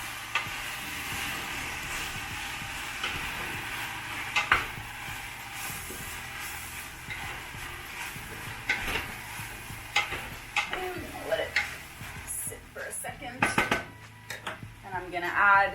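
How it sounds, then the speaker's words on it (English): A spoon stirs broccoli and mushroom soup in a pot, soft scraping and sloshing with light sizzling underneath, clinks of utensil on pot growing busier toward the end, with someone talking. "So now we're gonna stir it all up."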